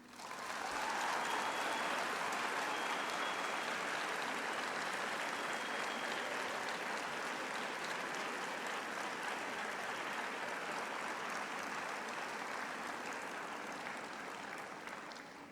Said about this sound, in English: I would like to ask all our graduates now to applaud their families and friends and spouses for the support they have been given